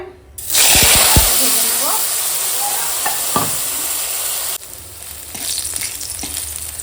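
Chopped eggplant, salted and turmeric-coated, hitting hot oil with a sudden loud sizzle that settles into a steady crackling fry, with a few clinks of a utensil and a quieter hiss toward the end.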